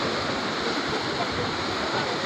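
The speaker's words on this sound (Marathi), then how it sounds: "नदीने पूल भरून चाललेली आहे पा." The Sindphana river at Shirur Kasar runs in flood over a bridge, a loud, steady, unbroken rush of churning water that fills the whole scene.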